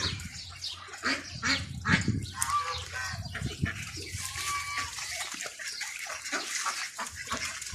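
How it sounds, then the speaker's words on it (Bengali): Ducks quack and mutter close by amid splashing water and flapping, a busy mix of bird calls and wet sounds. "দেখেন সাদা হাঁস আছে"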